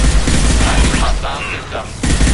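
Gunfire in a PS4 video game, loud rapid bursts of automatic shots with a brief lull near the end, while a voice talks over the shooting.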